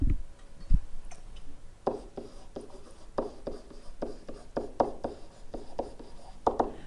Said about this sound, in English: All right, so I'm going to write that over here.